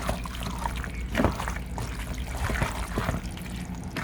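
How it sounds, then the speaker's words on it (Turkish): Water trickles and pours into a pot with a light, uneven splashing and dribbling, close by, with small clinks along the way. "Suyu ekledim."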